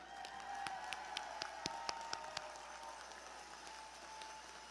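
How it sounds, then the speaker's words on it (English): Faint, scattered clapping at a Volusia County Schools Teacher of the Year ceremony, a handful of distinct hand claps spaced through the first couple of seconds over a quiet, humming room, then dying away. "One more round of applause for everybody"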